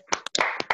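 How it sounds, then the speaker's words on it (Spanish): Hands clapping in a schoolchildren's class farewell applause, a few quick sharp claps in an irregular burst, close and clear with no talk. "Nos despedimos aplaudiendo."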